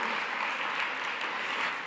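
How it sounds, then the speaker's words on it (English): A conference audience claps briefly, a soft, even patter of many hands heard from a distance for a couple of seconds. "round of applause, thank you"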